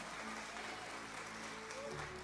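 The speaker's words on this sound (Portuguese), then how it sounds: "Vamos dar um aplauso a Jesus porque que Deus fez na sua vida?" Church congregation applauding: dense, continuous clapping from a large audience fills the whole short stretch at steady loudness, with no clear words over it.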